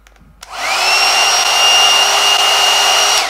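A knockoff brush hair dryer, a dupe of the Revlon One Step, switches on at its low setting and ramps up to a steady, close, loud whirring whine with a thin high tone, after a quiet start.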